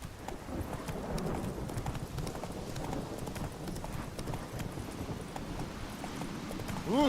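Horse hooves clip-clop steadily at a brisk trot in the Witcher 3 game, a continuous rhythmic clatter carried along under a dense game soundscape, loud and close throughout.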